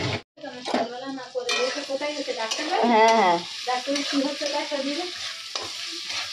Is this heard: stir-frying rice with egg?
yes